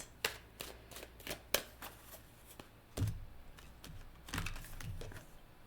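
Tarot cards are handled, shuffled and drawn in quiet, close detail: a run of sharp flicks and taps, then a couple of softer slides and rustles, with no talking.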